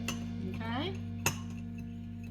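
A spoon stirs in a dish in a home kitchen, giving a few light clinks and scrapes, one sharper clink standing out, over a constant low electrical hum. A short rising squeak or voice-like sound appears briefly.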